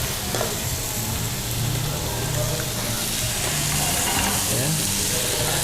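Shrimp cook in a hot oiled pan for a seafood pasta, giving a loud, even, crackling sizzle that runs unbroken, with faint stirring beneath and no speech.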